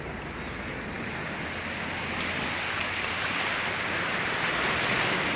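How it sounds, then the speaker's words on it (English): Ocean surf rolls in as a continuous, fairly close wash of breaking waves, a broad steady roar that builds slightly over a few seconds, with no voices. "listen to the sound of the waves crashing"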